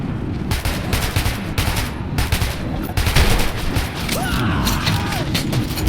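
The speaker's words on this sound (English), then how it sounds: "This is the only time firing a shotgun will affect your ears" Gunfire in the video game Metro 2033 Redux, heavy booming shotgun blasts with mechanical clatter, loud and close over a dense, roaring game soundscape.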